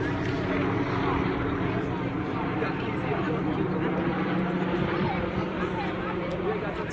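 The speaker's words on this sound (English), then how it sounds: "The helicopter's out again, but they're not spotlighting, but they are noisy overhead." A steady, loud helicopter rotor drone hangs overhead throughout, with faint voices murmuring underneath.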